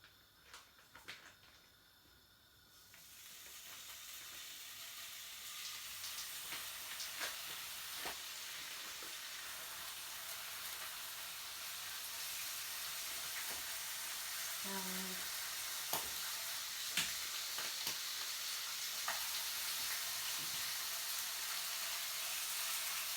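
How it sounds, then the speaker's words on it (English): Bacon frying in a pan, starting with a few quiet clatters before a steady hissing sizzle builds and grows louder, with occasional faint clicks and a short tonal beep partway through. "So let's stick the bacon in and get it cooking."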